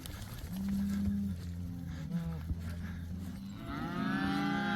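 A cow and her calf moo on a farm as they return home from summer pasture, several drawn-out moos of differing pitch at close range, with faint background noise.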